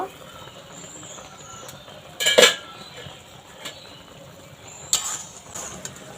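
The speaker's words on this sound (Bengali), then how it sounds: "এবার ঢাকনাটা তুলে নেব" A lid is lifted off a pan of syrup-soaked chushi pitha, giving a bright metallic clatter and scrape, followed a few seconds later by a second shorter metal clink, close over quiet background.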